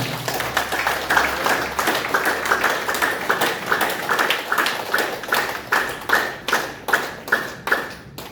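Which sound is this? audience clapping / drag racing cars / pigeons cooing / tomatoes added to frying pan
audience clapping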